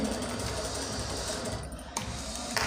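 A sewing machine runs a second straight seam beside the first, a fast steady mechanical whir and needle clatter up close, pausing briefly near the end.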